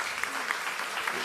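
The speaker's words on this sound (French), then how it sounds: "on l'applaudit" Audience applause for a startup pitch at a startup battle semi-final, a short, fairly quiet patter of many hands clapping steadily with faint talk mixed in.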